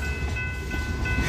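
A train rolling past on a railroad line, a steady rumbling roar with a faint high tonal ring, heard at moderate distance throughout.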